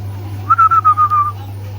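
Belgian red checker pigeon giving a short pulsing coo, a series of five or six quick warbling notes over a steady low hum, close and fairly loud.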